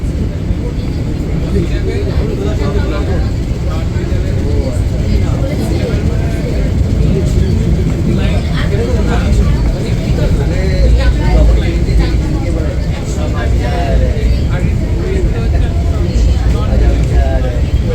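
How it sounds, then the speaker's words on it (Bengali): Maa Tara Express passing Barrackpore, heard inside an AC chair car, with a loud, unbroken low rumble and rolling drone running throughout and a few faint voices mixed into the noise. "ব্যারাকপুর ক্রস করে গেল আমাদের ট্রেন।"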